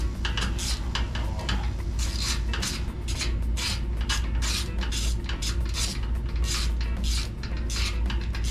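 A ratchet tightens the thermostat housing bolts on a 2018 Chevrolet Colorado. Rapid clicking strokes come in quick bursts with short pauses, loud and close, and nobody talks.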